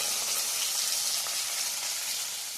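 Steady, loud sizzling of fish being heated in oil in a frying pan on a home stove, a continuous hiss filling the whole stretch with no talk.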